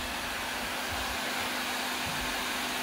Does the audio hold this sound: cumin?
no